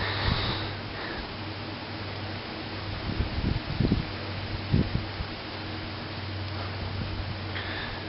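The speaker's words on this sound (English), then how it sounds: "The wind is kind of ferocious today" Strong wind blows outdoors around an oil lamp, a steady gusty rush with low rumbling buffets and a few brief thumps near the microphone.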